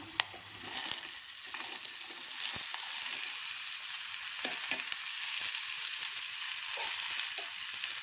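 Chickpeas, raw banana and grated coconut sizzle and crackle steadily in a hot oil tempering, with occasional scraping and stirring clicks from a spoon against the pan.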